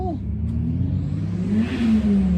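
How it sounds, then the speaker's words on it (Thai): An engine revs up with a rising, whirring drone that swells and holds, close and fairly loud, with voices faintly under it. "เบิ้งนะคะ เบิ้งบรรยากาศ"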